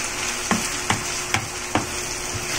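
Ground beef sautéing in a pan for beef pepper rice, a steady sizzle broken by several sharp scrapes or taps of a spatula stirring about twice a second, close and alone with no voices.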